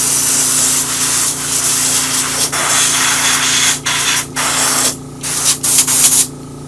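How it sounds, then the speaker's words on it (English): An airbrush hisses loudly and continuously as it sprays paint onto a 3D printed alligator snapping turtle, with brief breaks and short bursts near the end. "That wasn't me. That was your airbrush."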